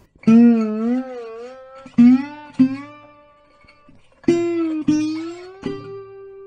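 A slide guitar plays a loose, wavering bluesy lick, notes sliding and wobbling in pitch with uneven attacks and gaps between phrases.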